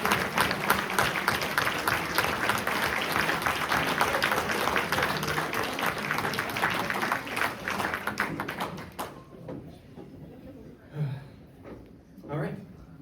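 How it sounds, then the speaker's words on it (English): Gala audience giving a round of applause, dense clapping sustained for about nine seconds before dying away, followed by a few scattered claps and quiet room sounds. "we could all have a round of applause for Drew"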